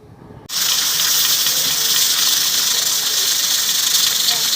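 Steam hisses loudly and steadily from a covered pot of chana pulao as it cooks, the broad hiss starting abruptly after a brief quiet moment and holding constant to the end.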